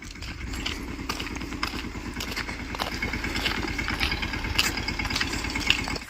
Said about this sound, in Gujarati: ટ્રેક્ટર આગળ જાય છે